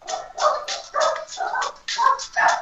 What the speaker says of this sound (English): is your dog singing along?